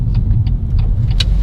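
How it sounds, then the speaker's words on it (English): A BMW M140i's B58 twin-scroll turbocharged six-cylinder with its stock exhaust produces a steady, loud low rumble throughout, a continuous engine drone with faint higher whooshes on top and no talking. "This exhaust, yeah, bearing in mind it's just a stock exhaust, it sounds great"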